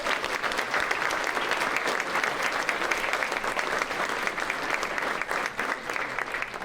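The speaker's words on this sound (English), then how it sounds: "let's have a round of applause, please." A crowd at a sports hall of fame ceremony claps steadily in sustained, dense applause, loud and even from start to finish.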